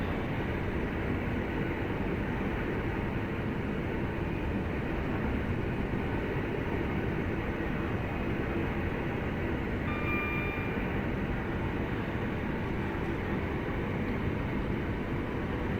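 A Birmingham Cross City line train in Train Sim World 3 runs at speed near 80 miles an hour, a steady broadband roar and rumble of wheels and motor that holds level throughout, with a brief faint tonal whine partway through.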